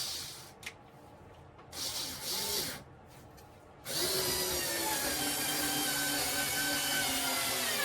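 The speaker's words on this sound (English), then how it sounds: "This end here can have the good screws put into it." A power drill drives screws into wood while building a model railway layout: short bursts of whirring at first, then a steady, loud, close motor whine that climbs in pitch and runs to the end.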